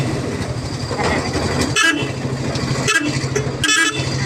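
A train horn blares in short blasts over the heavy rumble and clatter of a moving train, loud and close throughout.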